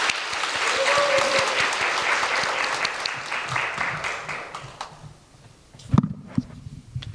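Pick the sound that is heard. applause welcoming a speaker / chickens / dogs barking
applause welcoming a speaker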